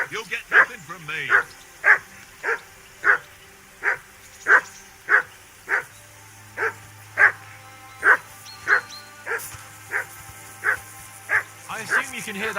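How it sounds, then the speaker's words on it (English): A dog barks repeatedly in the video game Kingdom Come Deliverance 2, steady evenly spaced barks over about twelve seconds with a low background hum. "I assume you can hear that damn dog of yours barking."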